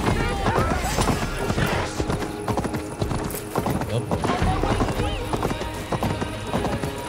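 Horse hooves clop at an even pace through a town in Assassin's Creed Valhalla, close and continuous, with occasional whinnies and game voices mixed in.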